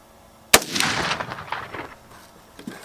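A single sharp gunshot cracks out in the desert, loud and close, then rolls away in a long, fading echo that trails off over two seconds.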